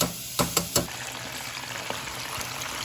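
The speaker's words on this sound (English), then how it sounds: "This is how it looks frying, and then this is the shrimp coming together." Shrimp fry in butter with garlic in a pan, a steady close sizzle with a few sharp pops and clatters near the start.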